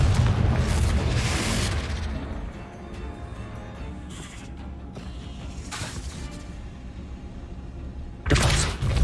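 Confringo spell blasts in Hogwarts Legacy, a loud booming burst at the start followed by quieter rumbling impacts and another sharp blast near the end.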